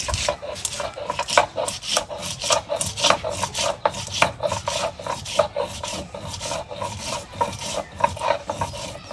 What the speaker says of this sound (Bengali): গরম মশলা বাড়তেছে দেখুন শিল পাটার মধ্যে